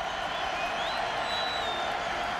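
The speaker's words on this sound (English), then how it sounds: "Crowd is up in Baltimore." A Baltimore football stadium crowd roars steadily on a fourth down, a dense, sustained wash of cheering throughout, with a commentator talking over it.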